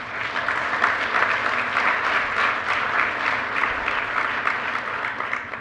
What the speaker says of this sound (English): I'd like everyone to kind of give a round of applause for their service to our community